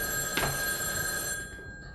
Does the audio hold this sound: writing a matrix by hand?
no